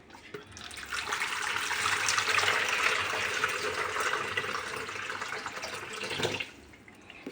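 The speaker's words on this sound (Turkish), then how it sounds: "Suyumuzu koyuyoruz. Bismillah diyerek ılık su." Lukewarm water pours steadily into a bowl for Thracian soda bread dough, a broad continuous splashing stream that runs for about six seconds before cutting off, heard alone without talk.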